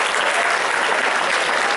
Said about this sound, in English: One applause for yourself.